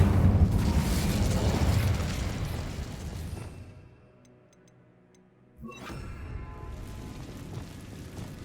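An Incendio fire spell in Hogwarts Legacy bursts as a rushing, roaring blast that fades to near silence, then a second sharp whoosh flares up and carries on loudly.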